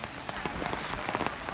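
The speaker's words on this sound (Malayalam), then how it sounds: "നല്ല മഴയാണ് ഇവിടെ." Heavy rain falls at a college canteen, a steady, close hiss with scattered sharper drop and splash patters running through the whole short stretch.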